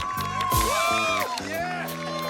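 A small group on a cold Arctic beach cheers and whoops, several voices overlapping in loud shouts and harmonic 'woo' cries close by.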